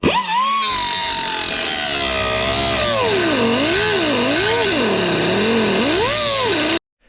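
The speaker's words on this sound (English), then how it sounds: "Now let's go ahead and see if we can cut a circle here." A power tool cuts a circular hole in the sheet metal body of a Honda Civic, a loud continuous whine whose pitch wavers up and down as the cut progresses, then stops abruptly.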